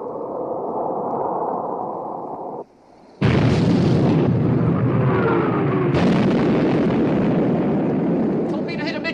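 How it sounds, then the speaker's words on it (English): Battleship main armament opens fire in a 1960 naval war film, heavy booming blasts and rumbling roar arriving in two loud surges after a brief lull, with voices mixed in. "Open fire, main armament."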